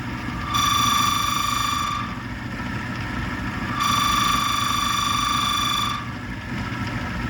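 Lathe chatter while turning a wooden magic wand from pine or poplar, a steady high whining tone that comes in two long bursts over a constant low motor rumble, close and loud with no speech.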